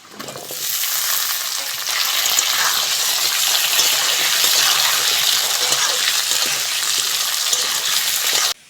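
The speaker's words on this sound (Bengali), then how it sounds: "আলুটা ভালো করে ভেজে নিয়েছি" Diced potatoes fry steadily in a pan with black cumin seeds, bay leaf and onion for a Bengali ridge gourd and potato posto, a dense close sizzle that holds at an even level throughout with no voices.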